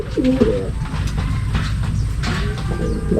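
Racing pigeons coo nearby in a loft, a few low, throaty burbling calls at the start and again near the end, over a steady background hum, with faint voices in the background.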